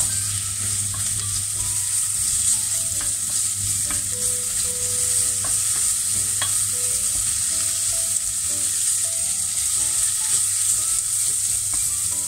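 Leftover pierrade food, meat and vegetables, melts and fries in a pan with a continuous moderate sizzle and soft crackles, with occasional faint utensil clinks throughout.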